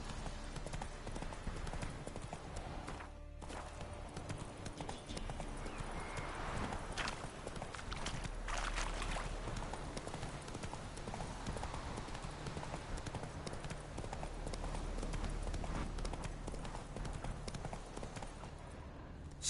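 Hooves of the horse Roach in a video game clip-clopping in a steady walking rhythm, fairly faint, under a constant background of game ambience.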